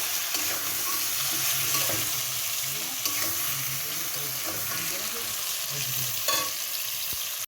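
Boiled potato, pointed gourd and ridge gourd sizzling and frying in a pan while being stirred, a steady close hiss with occasional scrapes and clinks of the utensil.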